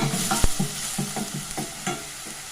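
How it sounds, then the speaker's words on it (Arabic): Onions fry in oil in a pan, a soft sizzle under several close clinks and scrapes as they are stirred. "درت البصله ديالي تشحر شي شويه"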